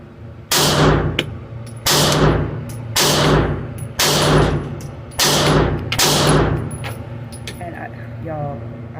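Glock 42 pistol fired at a shooting range: six sharp, loud shots spaced about a second apart, each with a long bright ring-off, while a person talks between and under them.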